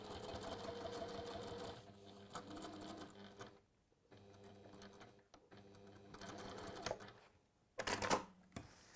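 Sewing machine stitching forward a couple of inches, then back, a fast mechanical whirring chatter with short pauses between bursts, close and fairly quiet.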